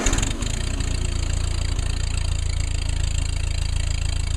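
A 1948 Ford 8N tractor engine catches and settles into a loud, steady idle, a dense low rumble running unbroken throughout, with no voices.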